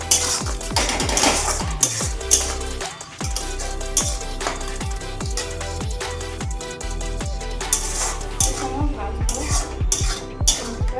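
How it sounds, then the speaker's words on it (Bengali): Tomato chutney with sugar fries in a pan while a utensil repeatedly clanks and scrapes against the metal in an uneven rhythm, loud and close, over a soft background sizzle. "চিনিটা দিয়ে একটু সময় ভাজবো"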